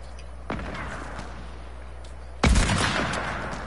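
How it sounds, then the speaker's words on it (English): Rail gun fired in the video game Sole, two sharp blasts about two seconds apart, the second louder with a lingering rumbling tail over steady game background noise. "Oh, here comes the rail gun."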